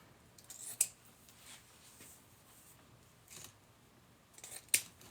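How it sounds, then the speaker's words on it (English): Scissors snip through dogwood stems at an angle, giving two sharp close cuts several seconds apart with faint rustling of the stems between them, quiet overall and without talk. "now I'm just gonna cut them at an angle"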